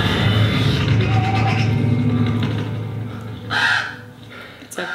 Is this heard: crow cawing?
yes